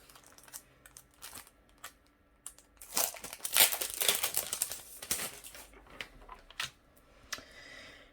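Paper ornament stickers are handled for a handmade card: quiet crinkles and taps give way to a louder, busier stretch of rustling and peeling in the middle, then scattered light paper sounds again.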